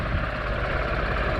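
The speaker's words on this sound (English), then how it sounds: "I'm standing still with the tractor." A tractor carrying a broadcast spreader idles while standing still, a steady low droning rumble that holds even and continuous throughout, fairly close and alone without talk.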